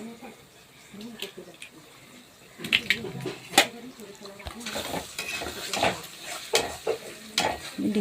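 Eggs cracked into a pan of oil, onion and capsicum for fried rice, sizzling steadily with scraping and stirring clatter from a utensil against the pan, close and moderately loud throughout.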